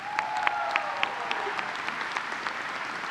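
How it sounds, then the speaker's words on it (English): Commencement crowd applauding, a sustained even patter of many hands clapping with a few sharper individual claps standing out near the front, and a faint tone running underneath. "Let's give them a round of applause."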